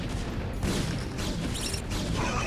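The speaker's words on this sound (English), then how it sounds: "that one mine just doing so much damage" A Vulture's spider mine explodes among Protoss probes in StarCraft Remastered, heard as a dense, continuous roar of blasts and crashes that stays loud throughout, with sharper bursts layered over the din.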